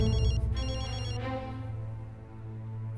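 A telephone rings in a domestic drama scene, its electronic bell pattern repeating in two bursts over a low, steady background hum, with no talking.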